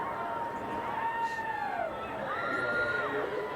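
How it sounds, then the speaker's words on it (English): Crowd at a 2011 Nebraska Class D1 state high school football championship, GACC against Elgin Public-Pope John, cheering and shouting steadily late in the game, with voices rising and falling in pitched yells across a dense roar. "listen to this crowd"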